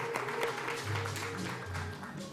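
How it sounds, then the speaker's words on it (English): An audience at an international Zero Tolerance for FGM event claps, moderate and somewhat distant, under a low hum from the room. "A big hand of applause to you."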